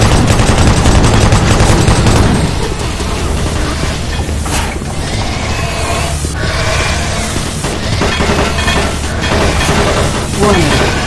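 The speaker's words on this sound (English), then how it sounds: "Warning, automated turret guns online." Automated turret guns firing in DOOM 3, heard as dense, rapid bursts of mechanical gunfire with booming impacts, loud and continuous for about eleven seconds, heaviest at the start and then carrying on amid explosive crashes.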